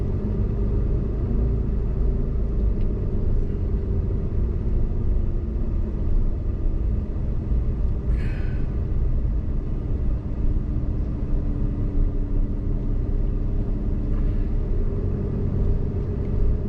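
Heavy semi-trailer trucks pulling tandem trailers rumble steadily along a highway near Grand Teton National Park, a continuous loud low drone of engines and tires with no speech.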